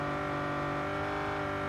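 Race car engine in Real Racing 3 holding a steady, loud drone with layered harmonics, a continuous close engine tone accelerating over a short stretch with no talking.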